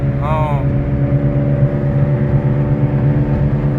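A lowered Infiniti G35 sedan with a transmission fault holds a steady, droning engine note. It stays high and never shifts, and a brief voice is heard at the very start.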